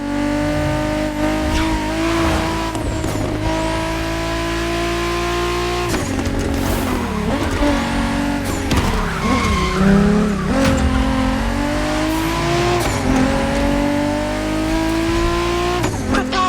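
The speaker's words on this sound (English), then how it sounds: "There's an absolute classic heading your way, a grail among collectors and Jim's greatest pride, the Mustang Boss 429." Ford Mustang Boss 429 muscle car in The Crew Motorfest racing game, its engine roaring and revving loudly and continuously while tires squeal and skid through corners, with gear changes and no talking.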